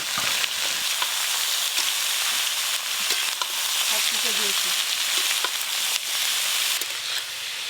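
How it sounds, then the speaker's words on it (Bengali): Potatoes and cabbage sizzle and fry in a pan with salt and turmeric, a steady bright crackle running throughout with occasional stirring scrapes, close and fairly loud, no talking. "আলু আর বাঁধাকপি খুব ভালো করে ভাজবো"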